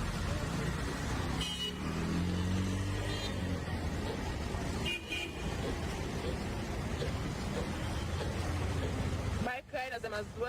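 Busy street traffic with car engines and horn toots, a continuous roadway roar under frequent talking, with a few short horn blasts and a brief clatter near the end.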